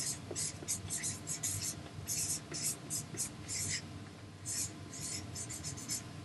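Pen strokes of someone handwriting notes, a series of short, close scratchy bursts with brief pauses between them, over a low background hum and faint voice.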